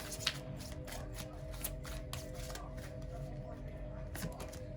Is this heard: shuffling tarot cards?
yes